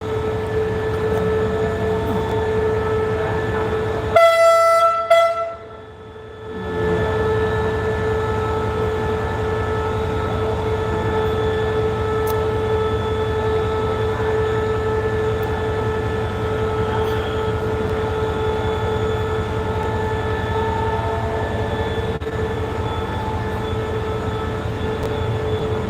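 A steady rumbling train drone with a low engine hum and faint rail noise continues for a long stretch as a train pulls out of Surin railway station, broken by a brief whooshing gap near the start.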